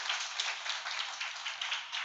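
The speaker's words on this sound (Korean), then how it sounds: "우리 원민 중동 목장 우리 격려의 박수 부탁드립니다." A church congregation at a Thursday late-night worship service giving a steady round of applause, soft, even and sustained, heard without voices.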